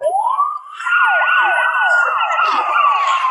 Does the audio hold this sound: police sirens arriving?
yes